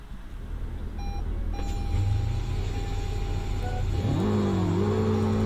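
A few soft electronic tones sound, then a Toyota Venza's engine starts up in the Roblox game Greenville and hums with a rising rev, close and fairly loud.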